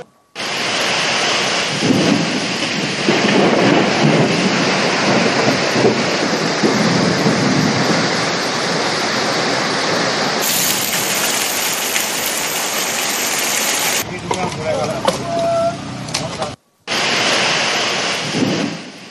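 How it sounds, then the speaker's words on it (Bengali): Heavy storm with hail and strong gusting wind in West Bengal, a loud continuous roar of pelting rain and wind with rumbling undertones, briefly cutting out near the end. "শিলাবৃষ্টির সঙ্গে ঝোড়ো হাওয়া"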